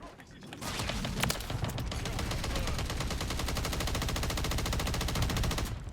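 Rapid automatic gunfire from a video game gun rattles continuously for several seconds, dense and loud, with no pause in the stream of shots.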